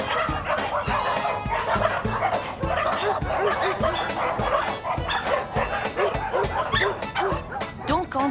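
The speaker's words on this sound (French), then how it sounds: "Ici nous avons les chiens, ce matin une vingtaine" Many dogs at an animal shelter bark and yip in a dense, continuous chorus, loud and close, with overlapping barks throughout and no pauses.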